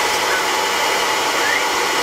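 Miyko electric spice grinder for rice, lentils and spices running in pulse mode, a steady loud motor whine that holds evenly throughout without a pause.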